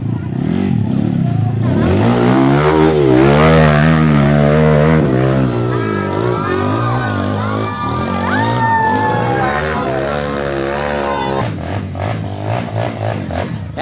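Trail motorcycle engine revving hard and straining on an extreme steep uphill climb, loud close rising and falling engine tones with shifting pitch as the throttle varies.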